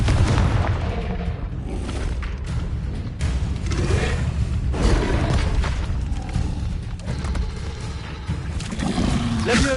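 Confringo fire-blast spells in Hogwarts Legacy go off as repeated loud booming bursts with roaring, crackling impacts, one after another over about ten seconds of dense, noisy combat.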